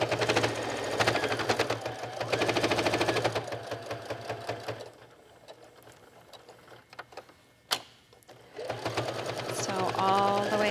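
A sewing machine stitches around a fabric scrap wallet in rapid, buzzing bursts, running steadily, pausing with scattered clicks and handling noises, then starting up again.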